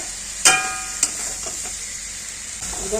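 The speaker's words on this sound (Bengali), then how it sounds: "এখন দিয়ে দিলাম চিংড়ি মাছটাকে দিয়ে আর একটু লতির সাথে আর একটু কষায় নিচ্ছি।" Shrimp and taro stolons sizzle steadily in a pan with garlic, onion and chili, with a loud clank of a spoon against the pan near the start, another tap soon after and stirring scrapes over the constant frying hiss.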